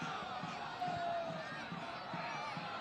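Soccer stadium crowd at an Orange County SC versus Colorado Springs Switchbacks match, a steady broad roar of many voices rising briefly as fans appeal for a free kick, with a lone whistle-like tone cutting through.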